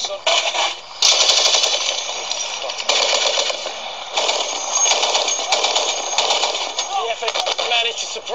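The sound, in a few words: machine gun fire during firefight in Afghanistan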